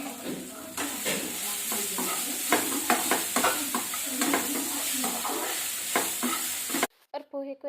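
Poha being stirred in a hot pan, rhythmic scraping strokes over a steady sizzle, then a sudden cut to a quieter kitchen with brief clinks near the end.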